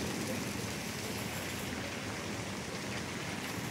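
Steady, dense downpour of heavy rain in Nazimabad, Karachi, a continuous even hiss of falling water with no voices or other distinct sounds over it.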